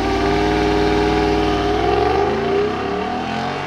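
A 2022 Jeep Grand Wagoneer's 6.4-liter V8 accelerates hard, its loud, steady engine roar rising in pitch as it pulls, heard up close and continuous with no talking.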